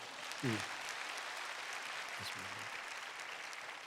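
A church congregation at Hansomang Church's thanksgiving night service applauds in a steady, dense wash of clapping that lasts the whole stretch, with a couple of brief voices calling out over it.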